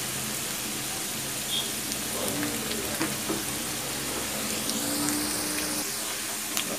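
Ivy gourd (kovakkai) pieces frying in a pan on a low flame and being turned over, a steady broadband sizzle with small clinks and scrapes as they are stirred, close and continuous without speech.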